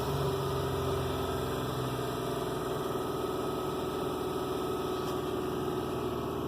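A 2005 Honda Odyssey engine, just fitted with a new timing belt after the old one broke, runs at an abnormally high idle, a continuous even hum with a steady vibration and no pauses.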